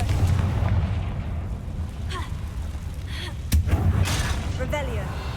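In the video game Hogwarts Legacy, a Confringo spell bursts in a single sudden blast midway through, over a constant rumbling game ambience, with a character's voice heard.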